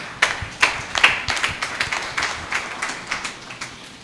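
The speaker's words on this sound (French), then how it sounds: "Acclamons très très fort." A church congregation clapping loudly in a steady rhythmic beat, a few sharp claps per second ringing in a reverberant hall with no voices over it.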